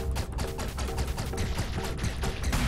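Rapid shooting in the video game Owlboy, a dense run of sharp repeated shots firing like a machine gun, loud and continuous over game music with almost no talk.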